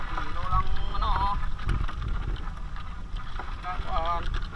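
Gusty wind buffets a small fishing boat at sea, a continuous rumbling roar with low wind noise hitting the microphone while people talk over it.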